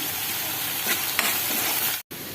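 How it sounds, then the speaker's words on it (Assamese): Onions sizzle in a hot pan, a steady bright crackle of frying with a couple of stirring scrapes, then a brief cutoff near the end. "পিঁয়াজখিনি ভাজি থকা হৈছে, অলপ ৰঙচুৱা পৰালৈকে ভাজিম।"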